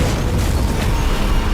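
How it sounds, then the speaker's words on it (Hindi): A helicopter explodes in midair after a single rifle shot hits a fuel tanker below in the 2007 action film Shooter: a loud, sustained roaring blast with dense low rumble filling the whole moment, no speech. "सिर्फ एक गोली से उसने पूरे हेलीकॉप्टर को हवा में ही उड़ा दिया।"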